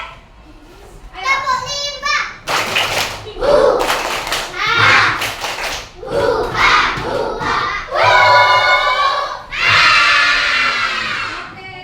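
Schoolchildren in a second-grade classroom perform the tepuk rimba clapping chant, loud group shouting in bursts with rhythmic claps, led by a child, with sustained cheers toward the end.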